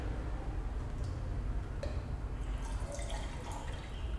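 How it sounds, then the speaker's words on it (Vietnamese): Fresh milk, about 70 ml, poured into a milk frothing pitcher, giving a steady liquid trickle with small drip-like splashes throughout. No one speaks. "Đầu tiên tôi sẽ rót 70ml vào bình sục sữa"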